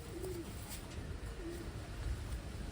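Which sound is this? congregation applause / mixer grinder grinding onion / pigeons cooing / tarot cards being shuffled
pigeons cooing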